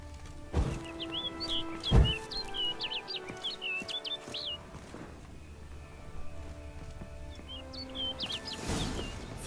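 Bird calls in The Witcher 3: Blood and Wine: quick trilled chirping phrases heard twice, fairly clear, over a steady ambient game backdrop with a few soft thuds.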